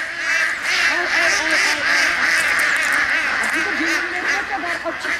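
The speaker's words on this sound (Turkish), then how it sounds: "Ay, ördeklere gel ördek." A flock of ducks quacks loudly and continuously nearby, with overlapping calls filling the scene at an outdoor pond, and faint human voices mixed in beneath.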